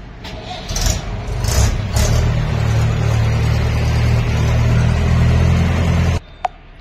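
A 2017 Massey Ferguson 7250 DI Power Plus diesel tractor runs at a steady, close, loud idle with a low rumble, a few revs early on, then cuts off abruptly near the end.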